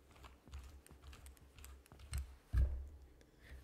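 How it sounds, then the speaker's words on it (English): Rapid clicking keystrokes on a custom-built mechanical keyboard with lubed switches and reworked stabilizers, a steady close-up patter of soft taps with a couple of heavier presses near the end, heard alone. "during one of the lockdowns, I built the keyboard. I lubed every switch, I redid all the stabilizers"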